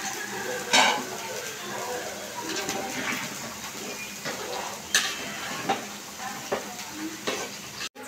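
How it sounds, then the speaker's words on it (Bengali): Beef cooks in a pan in a village home kitchen, with a steady sizzle and frying hiss plus occasional stirring scrapes and clatters, while pigeons coo faintly in the background. "এখানে রান্না করা হচ্ছে গরুর মাংস।"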